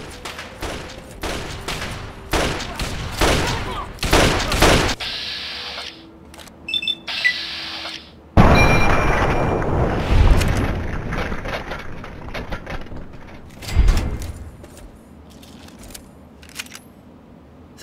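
Raiders firing guns in Fallout 3: bursts of gunfire, clustered sharp cracks and rapid fusillades coming in waves over about eighteen seconds, some loud and close, others thinner and farther off, with no talk.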